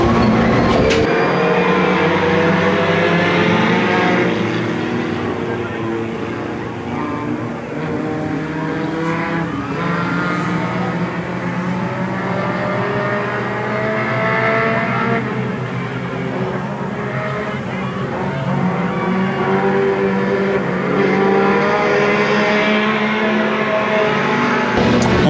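Race cars accelerating toward the green flag at the start of a race produce a loud, sustained engine roar throughout, with the pitch swelling and shifting as the pack passes close by.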